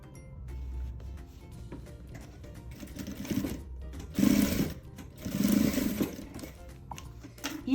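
A sewing machine stitches a seam along the edge of fabric for a boho-style maternity bag, running close in several short, uneven bursts with brief slowdowns between them.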